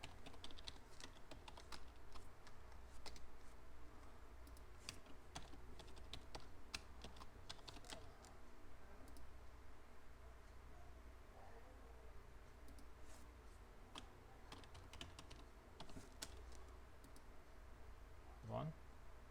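Rapid, continuous typing on a computer keyboard while logging into a website, close but quiet clicks and taps in uneven bursts with brief pauses.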